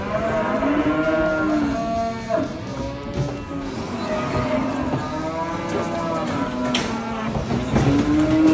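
Several cows moo in long, low calls, one after another, close by, with a continuous rumble of machinery in the background.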